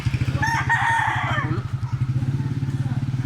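A rooster crows loudly near the start, with chickens clucking at a gamefowl farm in Consolacion, Cebu, over a steady, rhythmic engine-like chugging running underneath.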